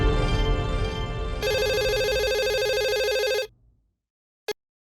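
A telephone rings in a comedy sitcom scene, a loud, steady electronic trill lasting a couple of seconds before cutting off, followed by silence and a single short click.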